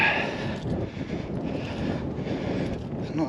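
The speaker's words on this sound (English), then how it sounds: "It's pretty windy up here, actually," Wind buffets the microphone steadily along a hilltop walk, a dense rushing roar that fills the whole clip without pause.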